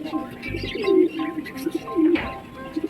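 Domestic pigeons, including a female bird, coo in low throaty phrases, two clear rolling coos standing out over a soft background of other birds.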